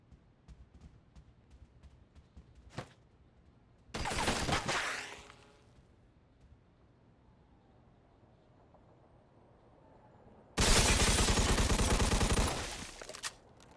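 Bursts of automatic gunfire in the crime game Mafia 2: Definitive Edition, with a single sharp shot followed by two long, loud sustained volleys separated by quiet stretches.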